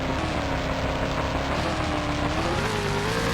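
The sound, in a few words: Monster Mutt monster truck driving, Monster Jam Urban Assault video game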